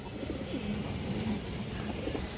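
Soft, low cooing of a khaki pigeon murmurs repeatedly over a steady background hum, fairly close and continuous.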